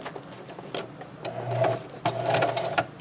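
A sewing machine back-stitches the handle of a tote made from Dollar Tree lemon placemats, its close rhythmic whirring running in short bursts with brief pauses, no voices.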